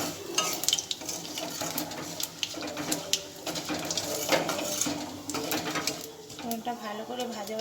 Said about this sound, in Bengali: ফোড়নটা ভালো করে ফুটে গেলে, ভাজা ভাজা হয়ে গেলে ফোড়নটা